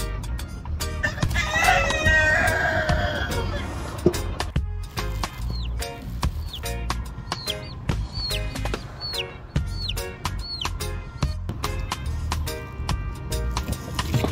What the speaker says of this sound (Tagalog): maglalapitan sa iyo yung mga manok